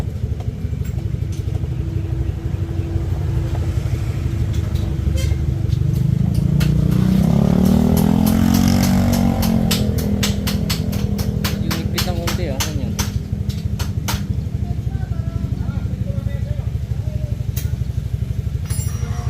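A motorcycle with a freshly repaired DIY floating disc brake runs steadily through a speed test, its engine note rising to a louder peak midway before settling, with talk over the top throughout.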